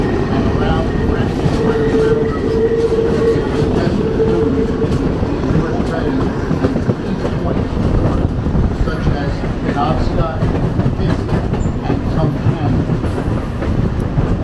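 A Reading Northern Railroad scenic passenger train runs on the main line through the Lehigh Gorge, heard from on board as a loud, continuous rumble with rhythmic wheel clatter and rail noise throughout.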